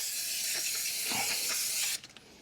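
A strong solvent brake cleaner hisses from an aerosol can while degreasing a Citroen C3 Picasso rear brake disc and wheel bearing area: one steady close spray of about two seconds, then abruptly cut off.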